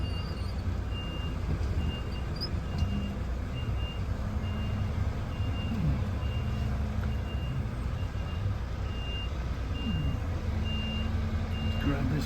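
A truck reverses onto a trailer parked on dirt, with evenly spaced reversing beeps repeating over a constant low engine rumble and a voice speaking now and then.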